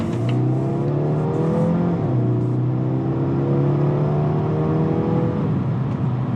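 A 2019 Volvo V60 T6 AWD Momentum accelerates on the road, its engine note climbing steadily through a gear change and pulling strongly at close range, with no talk over it.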